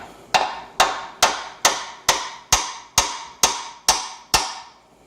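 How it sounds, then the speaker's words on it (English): Ten evenly spaced metallic hammer taps on a transmission shift linkage rod, sharp and close, in a steady rhythm with no talking. "Use a hammer, don't hit hard."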